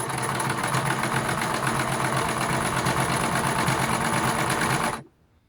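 A sewing machine running a zigzag stitch while turning a skirt and jeans into flares, a loud, steady, rapid mechanical whir held close for about five seconds before stopping abruptly.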